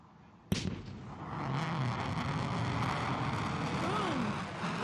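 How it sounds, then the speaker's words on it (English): A sudden sharp boom cracks out from a descending Blue Origin rocket, followed by a sustained, broad roar with wind-like rumble and faint voices underneath. "There's the sonic boom."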